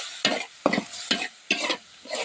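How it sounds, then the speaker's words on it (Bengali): Rice and lentils frying in oil with onion, garlic, turmeric and cumin, with a spoon scraping and stirring in quick rhythmic strokes over a soft sizzle, close up and without talk. "অল্প একটু সময় আমি ভেজে নিব এগুলো।"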